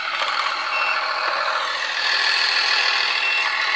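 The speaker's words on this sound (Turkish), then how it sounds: "YouTube üzerinden araba sesi indirdim, dizel motor sesi." Diesel truck engine sound played through a small Bluetooth speaker fitted in a Bruder 1/16 Liebherr RC model, a steady, tinny, continuous engine drone at constant loudness with no talk.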